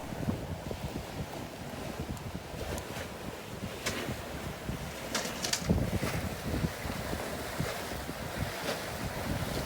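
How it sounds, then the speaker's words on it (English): A Bavaria sailboat off Martinique in the Caribbean sails quietly under genoa alone, with a continuous wash of water along the hull, lapping waves and steady wind buffeting the microphone throughout. "A bit lazy, only flying my Genoa, but who cares, sailing quietly over to the other side of the bay"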